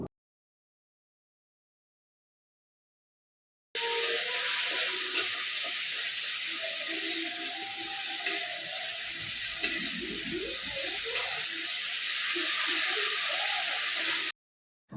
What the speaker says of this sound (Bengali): এরপর আদা আর কাঁচা লঙ্কাটাকে বেশ ভালো করে আমি এখানে ভেজে নেব